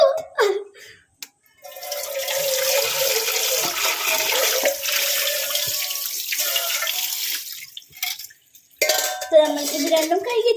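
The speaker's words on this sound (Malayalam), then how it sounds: "ചായപാത്രം കഴുകണം." A tea pot is washed under a running kitchen tap, with a steady gush of water and occasional clinks of the pot, close by. Brief quiet moments come at the start and near the end.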